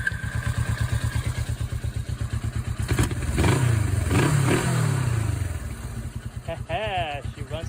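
A Suzuki GS500 motorcycle runs after a carburetor repair, its engine idling with a steady, even pulsing beat close by. The rhythm briefly swells into a louder, rougher rev with some clatter, then settles back as someone speaks.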